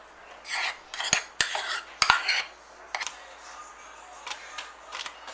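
Thick whipped cream is spread over a banoffee slice with a metal utensil: bursts of soft scraping and smearing with sharp clinks against a dish, close, in uneven strokes with pauses between them.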